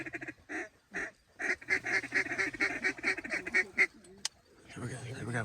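A flock of ducks and geese honk and quack in repeated bursts over a dry field during a waterfowl hunt in North Dakota, calls loud and close and crowding together, with people speaking briefly at the end.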